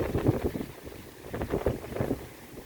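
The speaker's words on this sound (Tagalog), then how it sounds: "Pero yung hangin na lang." Strong typhoon wind in Hong Kong during Typhoon Ragasa, buffeting and rumbling in uneven gusts, with low roaring pulses and microphone wind noise throughout.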